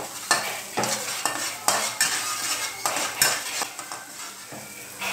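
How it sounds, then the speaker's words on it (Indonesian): Chopped spices sizzle as they are sautéed in cooking oil in a pan for Indonesian nasi goreng kesuna cekuh, with a utensil repeatedly scraping and clanking against the metal in a steady, close stir-fry. "Kita tumis bumbunya yang sudah dicincang."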